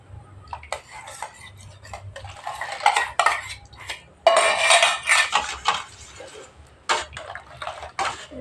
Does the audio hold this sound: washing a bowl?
yes